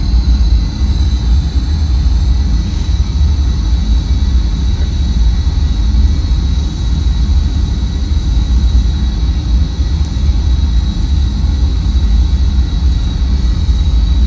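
An Eclipse 550 jet cruising in a flight simulator game, heard as a loud, unbroken low engine drone with a thin steady high whine on top and no talk.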